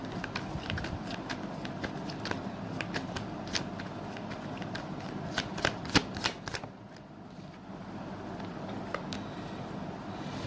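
Tarot cards being shuffled and drawn by hand, a steady rustle of riffling with crisp snapping flicks that bunch together midway, then a quieter pause and a few final flicks, close and moderately loud.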